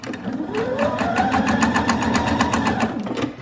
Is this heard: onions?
no